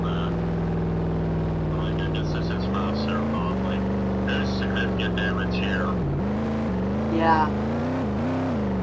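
A car climbing a hill with its engine holding a steady droning hum that shifts pitch as it labours, heard from inside the cabin with speech over it.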